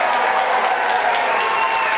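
Loud, dense crowd cheering and clapping for a second cheerleader contestant at a live show, sustained evenly without a break.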